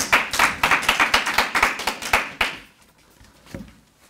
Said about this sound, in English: Give him a big hand clap.